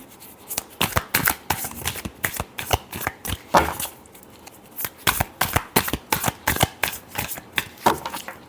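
Tarot cards being shuffled by hand in a rapid run of crisp, riffling bursts, close and fairly loud, with short pauses between flurries and no talking.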